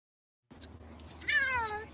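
A cat gives a clear, drawn-out meow with rising and falling pitch, heard close over a low rumble of background noise after a brief silence.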